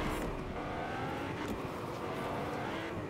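A car in the Fortnite video game gives off a steady, loud engine drone with road rumble, holding an even level for the whole stretch without any voices.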